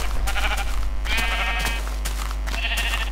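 Sheep in Minecraft let out several wavering bleats, three or so distinct calls over a steady low hum of game background, close and clear with no talk.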